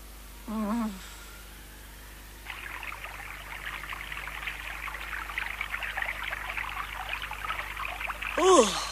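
Cartoon river water flowing and trickling steadily along a forest riverbank, a continuous bright babbling stream that starts after a short vocal sound and runs on alone at moderate loudness.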